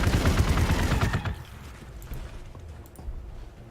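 Dense burst of game gunfire from units in Warhammer 40k Gladius, rapid overlapping shots for about a second, then a quieter tail with faint scattered pops.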